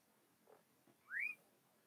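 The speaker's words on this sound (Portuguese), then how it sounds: "a assobiadeira, porque ela dá esse assobio" A whistling frog (assobiadeira) from the Brazilian Cerrado gives a single clear rising whistle, faint and somewhat distant, after a couple of soft low thumps in a quiet outdoor setting.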